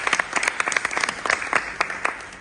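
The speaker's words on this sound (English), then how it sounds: "Give yourselves a big hand of applause." Enthusiastic applause from a crowd, dense bursts of clapping that swell and fade, fairly loud and continuous.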